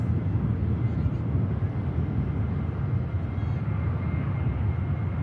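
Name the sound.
Jet2 airliner taking off from Manchester Airport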